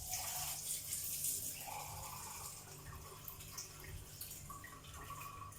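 Water being poured into a baking pan holding a leg of lamb, a continuous splashing trickle that is strongest at the start and then settles into a steady, softer flow.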